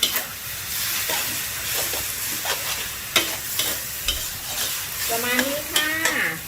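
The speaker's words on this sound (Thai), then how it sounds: "ผัดให้วุ้นเส้นสุกวุ้นเส้นนะคะมีความนิ่มค่ะ" Cabbage and glass noodles being stir-fried in a pan, a steady hissing sizzle punctuated by repeated spatula scrapes and clanks, with a brief squeaky metallic scrape near the end, no talking.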